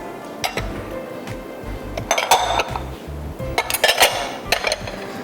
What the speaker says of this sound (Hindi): हर चीज़ मिक्स कर दीजिए अच्छी तरह।